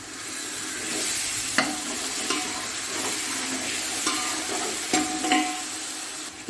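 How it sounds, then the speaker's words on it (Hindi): Ginger and garlic frying in a cooking pot, a steady sizzle with intermittent metallic scrapes and clicks of a stirring spoon against the pot, close and continuous with no talk. "मैंने अदरक और लहसुन को भून लिया"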